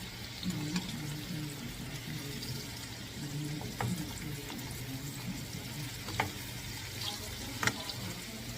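Chicken gizzards fry in hot grease with a soft, steady sizzle and occasional faint pops and clinks, fairly quiet throughout.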